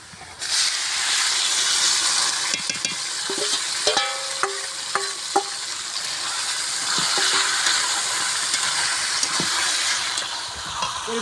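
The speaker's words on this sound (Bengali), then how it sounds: "মাংসগুলো এবার তেলে দিয়ে দেবো।" Chicken pieces drop into hot oil with chopped onion and a bay leaf, giving a loud, steady sizzling hiss. Metallic clinks and scrapes of stirring come through near the middle, close by, with no voices.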